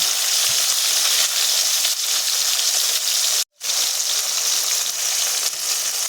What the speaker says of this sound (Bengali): কোনো রকমে হালকা পাতলা করে ভেজে নেব